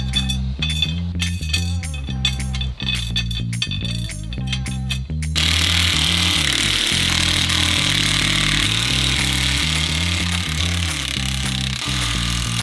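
Power tool rattling and whirring as it drives bolts into the beadlock ring of a 2025 Polaris RZR wheel, a busy, clanking run of short bursts that settles into a steady, loud mechanical drone.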